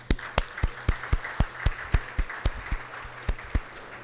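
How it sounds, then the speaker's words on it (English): Audience at a press conference clapping for an introduced person: a sparse series of separate sharp claps at a steady rhythm, like a few hands applauding, with no talk. "so we can all applaud you"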